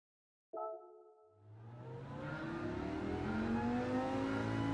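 A Dodge Viper in Gran Turismo 7 racing at Bathurst: a short engine blip starts it, then a rising, revving roar builds steadily as the car accelerates hard, loud and up close.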